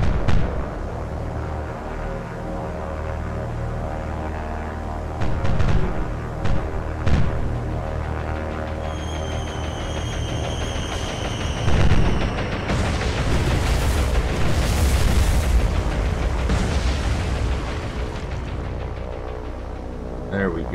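Bombs bursting on ship hits during Dauntless dive bombing in the naval war game War on the Sea, deep booms and rumbling impacts at several points over a dense, continuous battle din.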